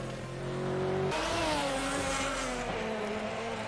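Ferrari and Lister GT1 race car engines roar in a sim race at Suzuka, one steady engine tone suddenly joined by a louder, rising second engine as the cars run close together, dense and continuous throughout.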